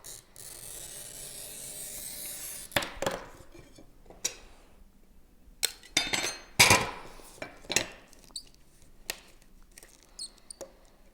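Art glass pieces being cut and handled on a work surface, with faint scratching and scoring followed by a series of sharp clinks and taps as pieces are set down and moved, irregularly spaced, no talking.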